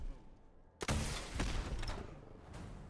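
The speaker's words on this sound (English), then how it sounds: "I mean, I'm using a missile launcher." A missile launcher fires in the video game Fallout, a sudden loud blast near the start followed by a rumbling explosion and a long roaring tail, with a second surge of noise shortly after.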